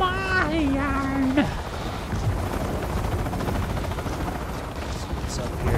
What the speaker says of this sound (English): Whoa, sweet chopper